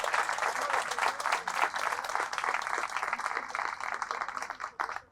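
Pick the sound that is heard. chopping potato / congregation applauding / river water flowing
congregation applauding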